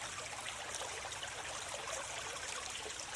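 Small babbling brook with steady, even running and trickling water, moderately close and continuous throughout.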